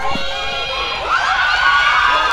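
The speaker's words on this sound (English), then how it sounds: "And the crowd, he's got the crowd wild" A school hockey tournament crowd between Somerset College and York Boys cheers and shouts loudly, a sustained roar of many voices with high excited yells swelling toward the end.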